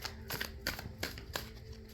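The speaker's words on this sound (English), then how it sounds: "I'm going to put these back and keep shuffling." Cards are shuffled in quick riffling bursts, about four soft flutters spaced evenly, close and quiet.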